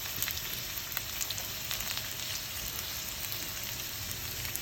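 Spring onions fry in a pan with a little oil, giving a steady, close crackling sizzle with dense little pops throughout, with no talking over it.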